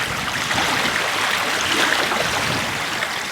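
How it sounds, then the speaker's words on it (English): Waves wash steadily against the shore at the water's edge while a strong wind blows, making a continuous broad rushing roar with no voices. "That wind's blowing pretty good, so you can hear those waves."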